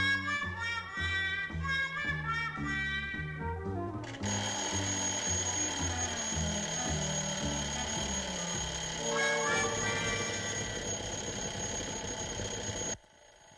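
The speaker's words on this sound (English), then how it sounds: "the professor set that old alarm of his for 9:30. And there it goes now." An old mechanical alarm clock rings loud and close in a continuous metallic clatter that runs steadily for most of the stretch, layered over music, then stops abruptly near the end.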